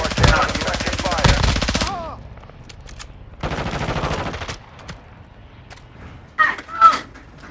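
Machine gun fire in a military shooter video game: two loud, close, sustained rapid bursts separated by a quieter gap, with short sharp shots toward the end.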